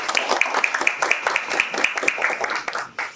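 At a Siksa-dong residents' general assembly in 2023, an audience claps in a brisk, even rhythm to welcome a provincial council member to the stage. The clapping is steady and fairly close and fades near the end.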